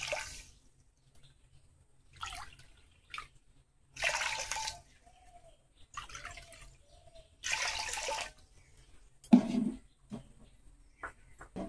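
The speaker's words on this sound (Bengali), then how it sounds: "তো এই যে একই বাটির মাপ করে আমি এখন জল দিয়ে দেবো।" Water poured from a bowl into two bowls of sugar to make syrup for sweets, coming in several separate splashing pours with quiet pauses between them.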